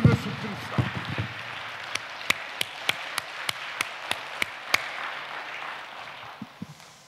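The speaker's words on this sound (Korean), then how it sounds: "큰 박수로 이제" A church congregation applauds briefly with scattered claps and voices, then a single person claps a slow, evenly spaced series of about a dozen sharp, loud hand claps, followed by quiet room murmur.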